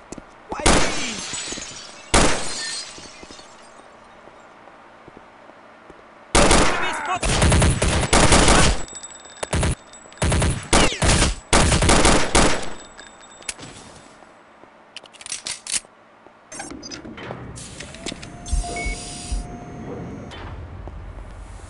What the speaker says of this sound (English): Did you hear all those gunshots?